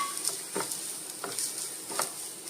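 Carrot and grated coconut sauté in ghee in a pan with a faint steady sizzle and a few soft, evenly spaced stirring scrapes, with no voices.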